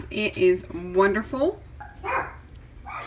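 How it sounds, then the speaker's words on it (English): Dogs bark in a few short, close yips and bow-wows indoors, mixed in with a person talking. "Excuse the dogs."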